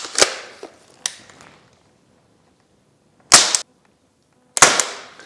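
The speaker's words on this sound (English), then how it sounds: "it takes salt and it kind of shoots it like a shotgun." A salt-firing shotgun toy aimed at house flies goes off in a few sharp, loud cracks, separated by quiet gaps, each snap decaying quickly.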